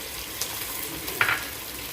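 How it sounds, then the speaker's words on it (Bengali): Boiled whole taro (mukhi kochu) frying in oil for a pui shak dish, a faint, even sizzle with a couple of soft utensil taps over a short stretch. "পুঁই শাকের জন্য মুখি কচু প্রথমে আমি তেলে দিয়ে দিচ্ছি"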